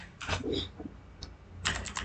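Computer keyboard keys clatter in two quick bursts of typing while Java code is written, with a single isolated tap between them, close and moderately loud.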